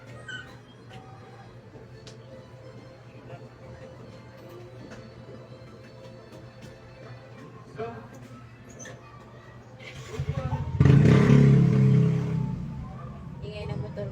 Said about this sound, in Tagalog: Ingay ng motor, guys.